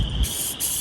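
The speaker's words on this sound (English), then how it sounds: "I'm gonna spray this stuff on." Aerosol spray paint hissing from a can onto a small Gheenoe boat hull during a build, two short bursts of close, steady hiss separated by a brief pause.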